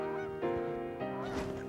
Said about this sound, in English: Geese are flying.